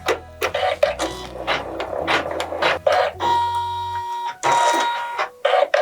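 A Janome embroidery machine stitching in rapid bursts, with mechanical whirring and needle chatter starting and stopping in several clustered runs, near and fairly loud, with a steady tone partway through.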